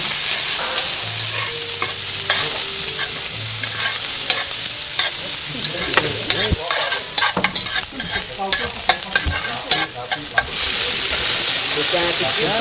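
Onions fry loudly in a hot pan, with a strong continuous sizzle and a quick run of scrapes and clatters from stirring near the end.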